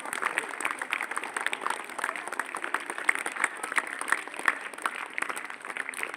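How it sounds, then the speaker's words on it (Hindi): An audience applauds at a school gathering with children, a faint, steady wash of many hands clapping, heard from some distance for several seconds. "तालियों की गड़गड़ाहट कम नहीं होनी चाहिए।"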